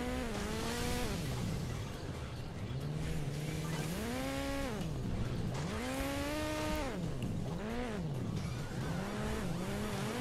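Motorbike engines racing in the mobile game Hill Climb Racing 2, with a constant revving whine that rises and falls as the bikes speed up and ease off, loud and continuous with no talk.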